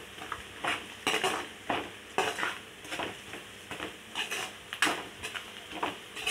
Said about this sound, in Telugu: ఇవన్నీ బాగా వేయించాలి.